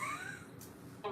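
A single short cat meow stands out near the start, followed by a quieter trailing note against faint room noise.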